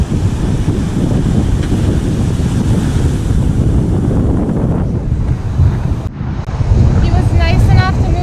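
Surf rolls in steadily at the water's edge on the beach at Canoa Quebrada, Brazil, a loud continuous wash with wind buffeting the microphone and a brief lull before the waves swell again.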